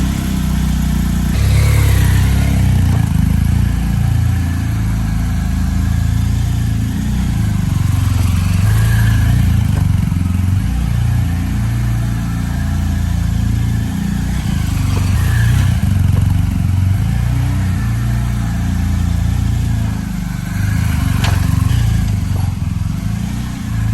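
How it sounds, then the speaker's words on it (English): A car pulls in from an alley and swings through a U-turn inside a garage, its engine a steady, close mid-pitched hum with gentle rises in revs throughout and no talking. "I'm gonna go out into the alley, come inside and just see if I could do a U-turn and then just head right back out"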